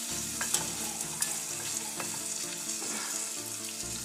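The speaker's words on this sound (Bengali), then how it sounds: "মিক্স করে একটু নেড়ে দিলাম" Ripe hog plum pickle stirred in a hot pan, a constant close sizzle with soft scraping strokes from the spatula and no talking.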